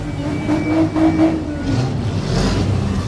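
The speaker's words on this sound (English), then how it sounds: "All the noise you're hearing in the background is the demolition derby cars," Demolition derby car engines at a county fair rumble in the background, a continuous low mechanical drone with a few rhythmic pulses, fairly loud and without speech.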